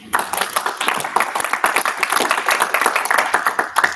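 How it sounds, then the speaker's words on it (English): An audience at an LNC meeting applauds a speaker named Nolan, with dense, fairly close clapping that starts abruptly and holds steady for about four seconds. "can I have a round of applause for Nolan?"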